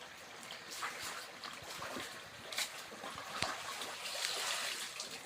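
Water trickles softly and continuously through a tiny, very short river, a gentle low babble with faint small splashes and no voices.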